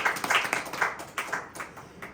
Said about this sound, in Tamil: கைத்தட்டி ஆண்டவரை மகிமைப்படுத்துவோம்.